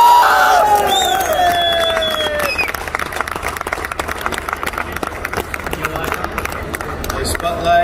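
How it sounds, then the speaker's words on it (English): An audience at a crypto expo stage event in Dubai breaks into applause and cheering, loud at first with whoops and whistles, then thinning into scattered clapping that rises again near the end. "Let's give him another round of applause."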